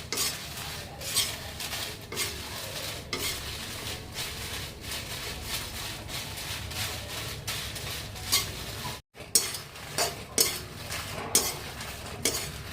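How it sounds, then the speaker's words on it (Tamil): Dried red chillies are sautéed in a pan for a spiced lentil powder, with a steady sizzle and repeated scraping, stirring clinks of a spoon against metal throughout, close and fairly loud, one brief dropout midway. "காஞ்ச மிளகாய் பாருங்கள் கலர் மாறிச்சு. இது ஓரளவு 5 மினிட்ஸ் வதக்கினா போதும்."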